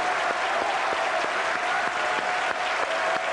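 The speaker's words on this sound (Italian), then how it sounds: "facciamo questa prova di applauso e vediamo come viene" A studio audience on the set of the 1989 Italian game show La ruota della fortuna claps steadily in a sustained, even round of applause, with no speech.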